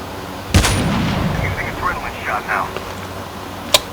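Gunfire in the video game Call of Duty Mobile: one sharp, loud shot near the start and a second crack near the end, over steady game ambience with faint mid-range sounds in between.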